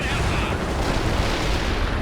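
Captured missile launchers fire in the World in Conflict strategy game, a dense roaring barrage of booms and rumbling blasts that stays loud throughout, with battle noise layered on top.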